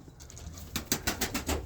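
Roller pigeons cooing in a loft: soft, low throaty coos repeating in a loose rhythm, close by and fairly quiet, with a faint flutter in the background.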